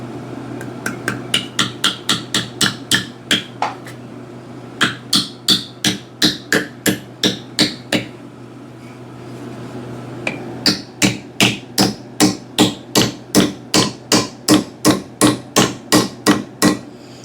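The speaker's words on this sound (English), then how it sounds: "Definitely the most nerve-wracking part of the hang, in my opinion, is driving the wedge." A hammer drives a wedge into a white oak axe handle: a long run of sharp, evenly paced metallic blows, close and loud, with brief pauses between bursts of strikes.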